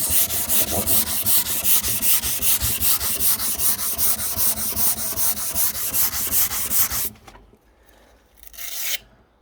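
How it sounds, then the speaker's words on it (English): Rapid, rhythmic rasping strokes of sandpaper on an antique Victorian mahogany chest of drawers, loud and close, run steadily for about seven seconds before stopping, followed by a brief quieter rub. "sand all this down and then keep that as a mahogany"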